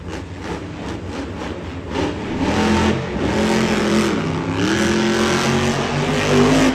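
A monster truck engine revs hard during a Monster Jam freestyle run in San Diego, a loud, sustained roar that climbs and surges over crowd and arena noise, with no talk over it.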